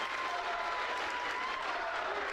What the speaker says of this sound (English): Listen to this crowd for a Tuesday night.